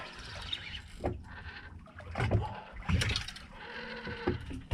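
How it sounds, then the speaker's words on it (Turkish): A large lamb bleats several times close by, its wavering cries rising over a low mechanical hum and some rustling. "Oo kuzuymuş. Dev kuzu."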